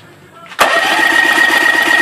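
A 25 hp Mariner outboard motor cranks over rhythmically during a compression test, a loud, steady chugging that bursts in abruptly after a quieter opening and continues close up.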